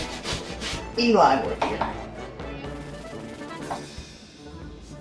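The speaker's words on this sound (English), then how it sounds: "The nice thing about grating onion this fine" Onion is grated finely against a grater in steady, scratchy rasping strokes, close and moderately loud, while someone talks over it.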